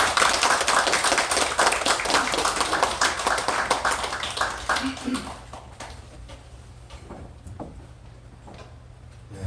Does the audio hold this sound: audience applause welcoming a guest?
yes